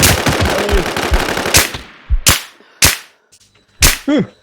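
Video game gunfire: a rapid burst of automatic shots, then several single loud cracks spaced apart, each ending in a short metallic ring.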